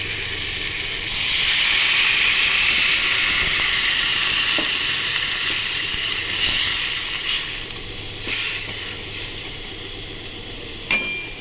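Water hits a pan of frying eggplant and hilsa fish, setting off a loud burst of sizzling and steam that settles into a steadier hiss, with a few clinks from a utensil.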